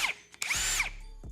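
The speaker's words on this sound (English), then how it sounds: "I'm gonna buy me this drill" A handheld power drill revs up briefly, a loud, close, high-pitched whine that winds up and then spins down over about half a second, with no talk around it.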